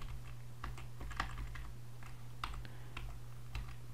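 Keys clatter steadily on a computer keyboard, quiet, irregular taps spread across the few seconds over a low electrical hum, with no voices.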